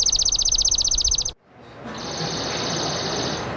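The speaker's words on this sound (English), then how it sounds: "this is a chipping sparrow." Chipping sparrow song plays from a recording: a fast, even trill of dry chips repeated about a dozen times. It stops abruptly, then a faint hiss remains, then another thin, steady trill fades in.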